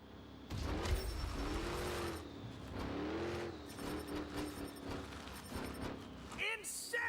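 A monster truck engine roars and revs at a Monster Jam arena show, rising and falling in loud waves through the crowd noise, with people talking nearby.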